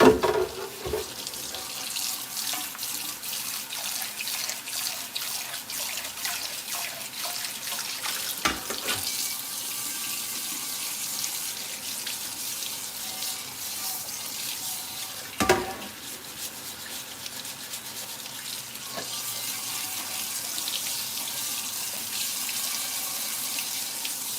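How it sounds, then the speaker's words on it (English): A cast iron pan, a Wagner, is held under a cold running kitchen tap, giving a steady broad hiss of water with occasional splashy surges as the pan shifts in the stream; no talking. "And once again, I'm running it under cold water."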